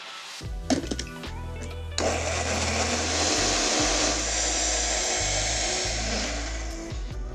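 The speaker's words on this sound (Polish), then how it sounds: "Także blendujemy." A blender whirs steadily while mixing a keto shake, its loud motor starting after a couple of short pulses and running continuously for about five seconds, close and alone with no talking.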